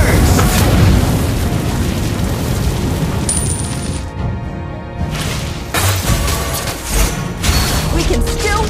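Explosive magma blasts and fiery booms from Valir's Lava Burst skill in Mobile Legends: Bang Bang, loud and dense, with a brief drop mid-way before the crashing fire effects resume.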